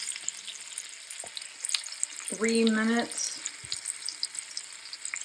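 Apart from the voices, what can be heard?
ribeye steaks sizzling in a skillet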